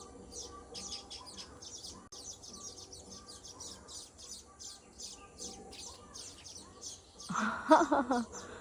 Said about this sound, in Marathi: बघा ना किती मस्त किलबिलाट सुरू आहे